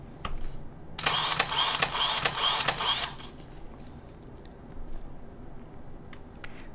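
A single-lens reflex camera shutter fires in continuous mode, a loud, close, rapid burst of about two seconds of mechanical clacking and whirring, followed by quieter handling clicks.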